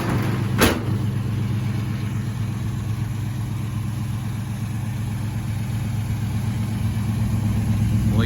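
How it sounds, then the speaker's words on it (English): A 1951 Chevy 3100 pickup hot rod with a small-block Chevy V8 idles steadily and smoothly at close range, a constant low rumble with a brief click near the start. "Smooth sounding running motor."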